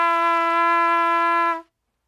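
One sustained trumpet note played slightly flat, giving a deflated, flabby tone, held clear and steady for about a second and a half with no other sound before it stops.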